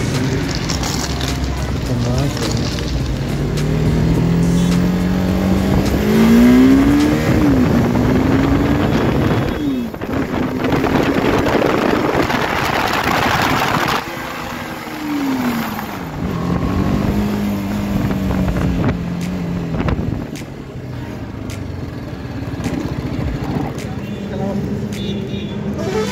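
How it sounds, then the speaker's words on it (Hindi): A BMW G310R motorcycle's engine rises and falls in pitch as it revs and rides, close and loud, under heavy wind buffeting with someone talking over it. "तो गाइस गाड़ी का आवाज सुन सकते हैं"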